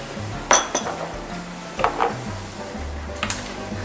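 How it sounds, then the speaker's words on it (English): Kitchen bowls being moved around while cooking green beans, a few clear clinks and knocks of dishes against a counter at close range, with a low background hum and no talking. "Now we will change our little bowls here."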